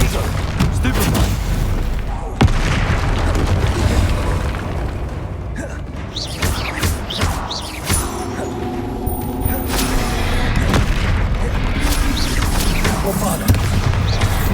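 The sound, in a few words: Bombarda explosion spell in video game Hogwarts Legacy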